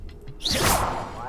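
A Depulsor spell from Hogwarts Legacy lets out a sudden, forceful magical whoosh, a single loud swelling burst that fades over a second, just after a brief spoken word.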